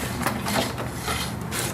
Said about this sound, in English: Now removing the axle.